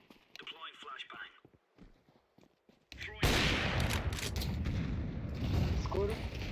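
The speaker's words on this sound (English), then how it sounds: "Deploying flashbang." A flashbang grenade goes off in a tactical shooter video game: after stretches of talk, a sudden loud, wide blast erupts and settles into sustained harsh noise that fills the rest of the moment.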